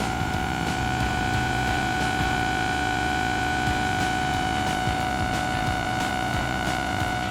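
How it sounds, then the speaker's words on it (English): A powerful vacuum pump on a vacuum tanker truck sucking up liquid drones steadily with a loud whining hum and rushing suction noise, constant and unbroken throughout. "the vacuum tanker truck has a super powerful vacuum. It sucks up dirty water, mud, and liquid waste"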